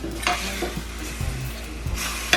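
Chicken sizzles and fries in a pan, a dense close crackle with several scraping stirs of a utensil and clacks against the pan, no voices.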